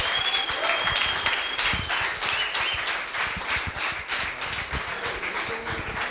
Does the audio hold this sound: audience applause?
yes